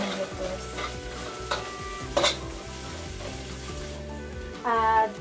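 Garlic stir-frying in a pan at the start of a blue crab and ginger stir fry, with a steady close sizzle, a couple of sharp stirring clanks and a louder sputtering burst near the end.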